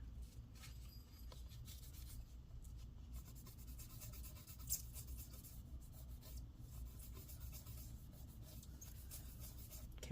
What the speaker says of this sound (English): So we'll use first a clean paper towel and just wipe the excess that's already on